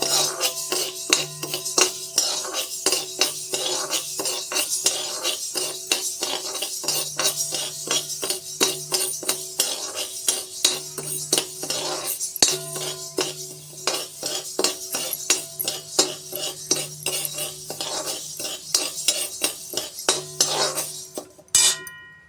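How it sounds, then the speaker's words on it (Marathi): Urad dal dry-roasting in a pan for chakli bhajani flour, stirred briskly with a spoon that scrapes and clinks against the metal in a fast, continuous rhythm for over twenty seconds, close up and without talk. "हे पण खमंग भाजून घेणे हे बघा असं खमंग भाजून घेणे"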